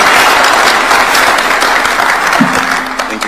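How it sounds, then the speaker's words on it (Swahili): Loud, sustained applause from a large crowd at a State House event welcoming Nairobi governor Johnson Sakaja, dense clapping throughout with a faint voice surfacing briefly near the end. "Tumpigie makofi ya Kenya."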